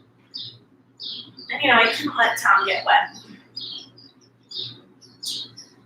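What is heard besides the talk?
birds chirping outside through open door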